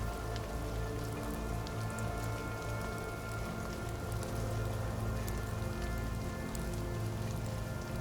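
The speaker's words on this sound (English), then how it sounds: "Sweet dreams, and drift off to sleep with rain." Steady rainfall patters on a surface, a soft, continuous wash of drops with no gaps, evenly faint and close throughout.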